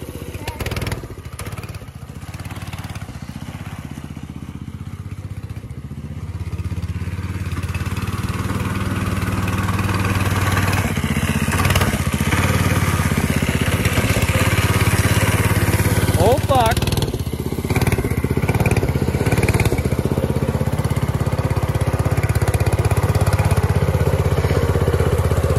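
A motorbike engine runs and idles steadily, a low continuous drone that grows louder partway through, with people talking over it.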